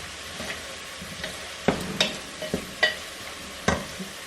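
Meat and herbs for Persian ghormeh sabzi are turned with a utensil in a pan, giving a series of sharp scraping and tapping strokes at irregular intervals over a low sizzle, close and fairly quiet.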